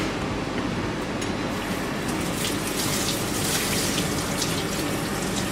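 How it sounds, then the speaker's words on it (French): Cured salmon rinsed under a running tap to wash off excess salt, a steady, loud, continuous gush of water with no break and no voices. "Donc là, on va le rincer pour retirer justement cet excédent de sel."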